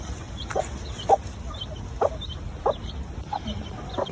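Chickens cluck in short, scattered calls at a moderate distance near their coop over a steady outdoor background hum.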